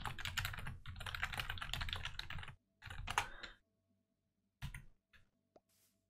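Bursts of rapid typing on a computer keyboard, a dense run of clicks for over two seconds, then a shorter flurry and a few isolated key taps with quiet gaps, close and clear with no talk.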